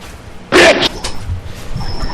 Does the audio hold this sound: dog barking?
yes